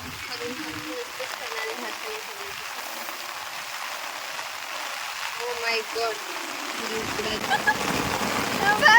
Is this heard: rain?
yes